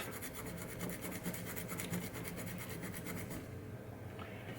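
A green Scotch-Brite scrubbing pad rubs rapidly back and forth over a 1973 Williams pinball machine score reel, a faint, close, rhythmic scratchy rasping that runs steadily and then eases off near the end.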